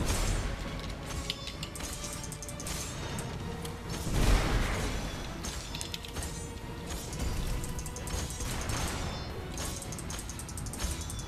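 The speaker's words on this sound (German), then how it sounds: "Ah, Bombe." A bomb blast from the video game Magicka, a brief booming crash that swells out of a dense, busy wash of game effects and music and then fades back into the continuous clatter.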